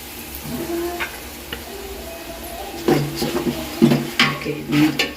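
Ginger garlic paste frying with softened tomatoes in a pan, a low sizzle with stirring scrapes and spattering bursts growing busier in the second half, close up.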